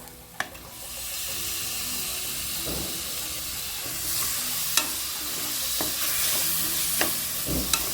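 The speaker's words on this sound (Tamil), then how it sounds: "தக்காளி நல்லா வதங்கணும்." Tomatoes sauté in hot oil for a Kongu-style mushroom biryani, giving a loud, steady sizzle and hiss close up. Occasional sharp clinks and scrapes of a stirring spoon punctuate the frying.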